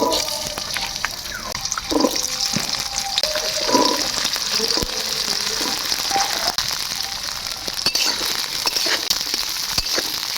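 Beans fry in white oil for fried rice, with a loud, constant close-up sizzle and scattered scraping and clinking of a spatula stirring the pan.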